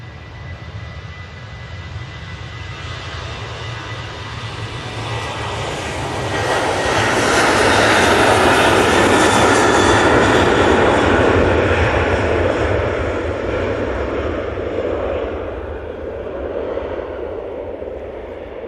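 A Ryanair jet takes off, bound for Faro: loud broadband engine roar that swells over several seconds to a sustained peak, then holds and slowly eases, with no talk over it.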